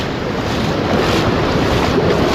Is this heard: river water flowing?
yes